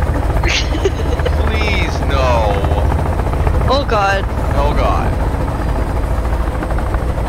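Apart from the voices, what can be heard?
helicopter flying and crashing in the video game Sons of the Forest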